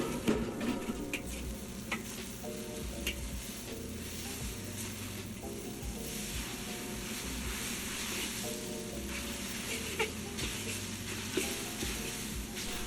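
Lo mein is stir-fried in a large 24-inch wok over a wok burner, with a steady, close sizzle and the scrape and clatter of stirring throughout.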